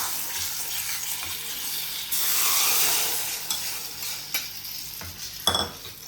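Urad dal tempering sizzles in hot oil for a pachi pulusu, with repeated stirring and scraping of a spoon against the pan, fairly close and steady, a few sharper clinks near the end.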